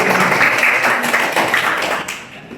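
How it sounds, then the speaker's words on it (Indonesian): Students in a classroom clap their hands and shout hooray together, a dense, close burst of applause and voices that tapers off toward the end. "kami disuruh teriak hore sambil tepuk tangan"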